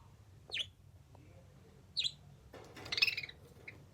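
A pet bird gives several sharp, high chirps, two separate single calls followed by a busier burst of tweets, close by and fairly loud over a quiet room hum.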